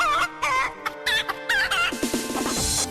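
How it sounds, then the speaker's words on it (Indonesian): A chicken clucks in a rapid run of short, loud calls close by, ending in a quick stuttering burst, with no voices over it. "Enggak, tadi suara ayam."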